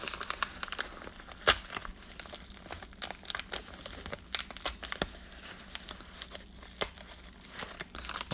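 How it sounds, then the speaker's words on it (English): A bundle of trading cards has its wrapping torn open by hand, producing steady close crinkling and crackling with sharp ripping snaps scattered throughout. "I'm just going to try to rip it manually."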